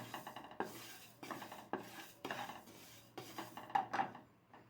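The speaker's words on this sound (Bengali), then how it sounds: "ডালটাকে আগে ভেজে নিচ্ছি আমি" Moong dal being lightly dry-roasted in a pan, heard as repeated scraping and rubbing strokes of a utensil against the pan, close and fairly quiet, at a steady rhythm with no talk.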